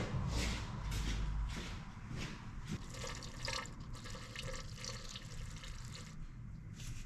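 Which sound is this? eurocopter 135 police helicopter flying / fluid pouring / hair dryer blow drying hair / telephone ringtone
fluid pouring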